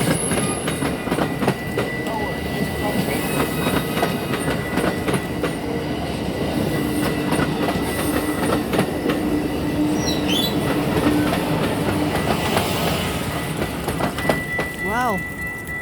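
An Amtrak passenger train passes on the rails toward Milwaukee in Chicago, a steady loud rumble of wheels with clickety-clack and squealing, continuing for the full length with a brief horn-like tone near the end.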